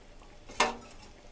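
A few fish pieces drop into a pot of simmering curry with a single short, close splash-clink, then quiet kitchen background.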